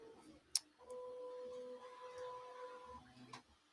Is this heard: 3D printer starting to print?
yes